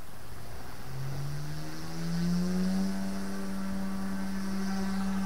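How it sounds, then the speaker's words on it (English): The main motor of an OMP M2 RC helicopter, running an F7 flight controller, ramps up to flight RPM. A rising whine climbs in pitch and settles into a steady hum, close and loud, with no talk over it. "As soon as I flick out a throttle hold, the main motor will obviously ramp up and attain flight RPM."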